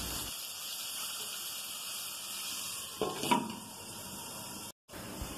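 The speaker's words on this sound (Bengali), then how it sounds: "তবে আমি ঝিঙেটা ঢাকা দিয়ে দিয়েই ভাজব।" Ridge gourd fries under a lid in a pan, a steady, even sizzle and hiss close by, broken by a brief clatter partway through and a short cut-out near the end.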